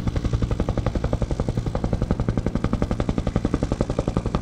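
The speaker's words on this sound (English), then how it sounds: "The distinct thumping noise of the blades of the UH-1H Iroquois, best known as the Huey." Restored Vietnam-era UH-1H Iroquois Huey helicopter at a veterans' touchdown event, its blades beating a loud, rapid, evenly spaced thump-thump close by, continuous and alone.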